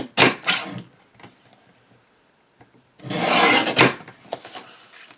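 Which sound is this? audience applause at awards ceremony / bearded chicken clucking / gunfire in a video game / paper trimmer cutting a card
paper trimmer cutting a card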